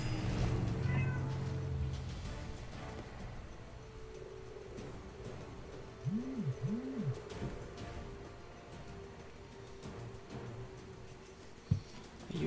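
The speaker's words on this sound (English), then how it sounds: "Are you being a cute little kitty over there?" A cat meows twice in quick succession at mid-distance, drawn-out rising and falling calls, over a constant low background hum with faint other noises.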